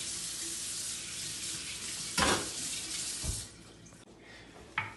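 A kitchen tap runs steadily while a cutting board is rinsed, a soft continuous hiss of water broken by a few sharper splashes and knocks.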